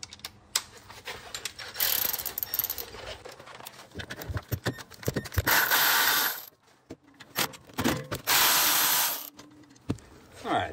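Wrench working the rear brake caliper bolts on a Tesla Model S, with repeated ratcheting clicks and metallic clatter in bursts, close and fairly loud, no talk.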